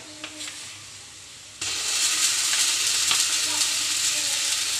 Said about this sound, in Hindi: पियाज को अल्प समय भाजी देवा